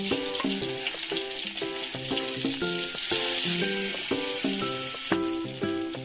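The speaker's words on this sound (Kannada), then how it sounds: "ನಂತರ ಒಗ್ಗರಣೆಗೆ ಸ್ವಲ್ಪ ಸಣ್ಣಗೆ ಹೆಚ್ಚಿದ ಹಸಿಮೆಣಸಿನಕಾಯಿ" Finely chopped green chillies sizzle in hot tempering oil with mustard seeds and cumin, a loud continuous frying hiss close by, with light stirring and music playing along.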